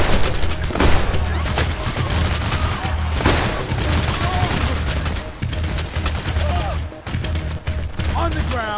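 Dense bursts of gunfire and booms fill a firefight in the video game Payday: The Heist, loud, rapid and continuous, with people talking underneath.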